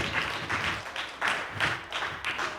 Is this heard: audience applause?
yes